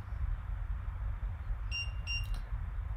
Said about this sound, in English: Now you heard the double beep